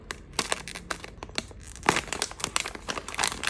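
Crinkly packaging being torn and opened during an unboxing, with close, loud crinkling and rustling bursts in quick irregular succession.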